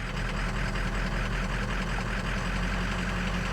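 Ford Powerstroke diesel idling with injector 1 disabled, a steady, rough low rumble with a faint uneven knock, constant and close throughout.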